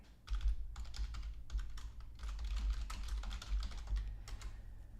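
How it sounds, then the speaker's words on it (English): Rapid, close clicking of keys as a website address is typed on a computer keyboard, in quick bursts separated by brief pauses over a low background hum. "I'm typing it for you."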